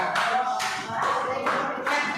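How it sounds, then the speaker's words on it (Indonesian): Students in a coding class clap for a fellow group, a few short bursts of hand claps in a small room, with a faint tone running underneath and no talking. "tepuk tangan untuk kelompok melihat kelompok view ya"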